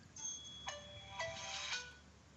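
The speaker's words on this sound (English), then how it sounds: "You hear a weird cell phone sound somewhere in the darkness." A cell phone ringtone plays as a sound effect in a horror tabletop game, a series of tonal electronic chimes rising in a short melodic pattern, fairly soft over quiet background noise.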